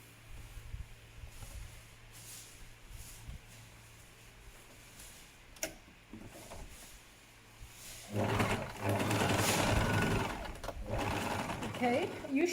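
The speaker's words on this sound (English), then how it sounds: "what I mean with sewing the fold in the middle" A sewing machine runs stitching the middle fold of a reusable fabric face mask, first faintly and intermittently, then in a louder continuous burst near the end, with a person talking over parts of it.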